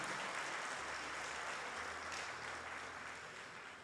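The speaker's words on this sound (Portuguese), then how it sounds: "Você pode aplaudir ao Senhor Jesus por tudo isso." A church congregation claps together during a sermon, producing a dense, continuous patter of many hands that stays fairly even before easing slightly toward the end.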